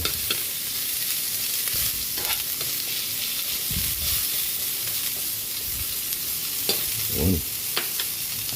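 Sliced onions sautéing in a pan for chicken tinola: a steady frying sizzle runs throughout, broken by several distinct scraping stir strokes at irregular intervals, close and clear with no talking.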